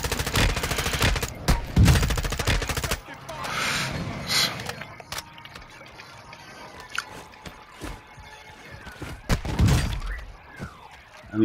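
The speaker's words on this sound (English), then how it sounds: "They shooting at me on the bridge." Gunfire and shattering in Call of Duty: Modern Warfare II during a Resurgence match, dense bursts at the start, then scattered distant shots under talking.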